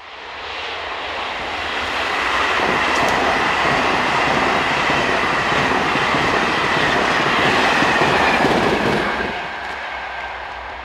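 An SNCF BB15000 electric locomotive hauls a train past near Paris, a rising rumble and whine building to a loud, sustained roar before easing off as it moves away.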